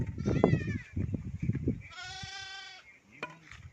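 Sheep bleat at pens set up in an open field, with one drawn-out wavering bleat following a stretch of nearby talking and a short faint call near the end.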